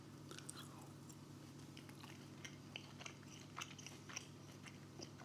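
Someone chews a piece of steak cut from near the bone, soft close-up wet chewing clicks and squelches in an irregular rhythm over a low steady hum.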